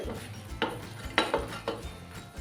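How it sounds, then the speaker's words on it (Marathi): Chickpeas being stirred together with finely chopped peeled raw banana in a pan, with a few distinct clinks and scrapes of a spoon against metal over a low background, close and unhurried. "जे केळं घेतलं होतं जे सालं काढून असे बारीक असे तुकडे करून घेतलेले ते घालूया मिक्स करून घेते"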